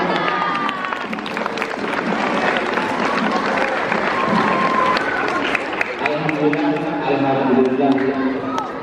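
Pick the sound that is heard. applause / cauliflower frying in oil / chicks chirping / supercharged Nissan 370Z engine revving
applause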